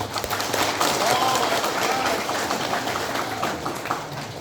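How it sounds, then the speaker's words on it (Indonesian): Applause from an audience at a madrasah gathering, a steady wash of clapping that fills the whole stretch at moderate loudness, with scattered voices mixed in. "Tepuk tangan untuk kita semua."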